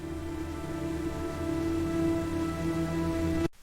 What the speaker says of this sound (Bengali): ঠিক তখনই আবার বৃষ্টি নামল।